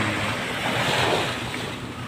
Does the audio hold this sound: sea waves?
yes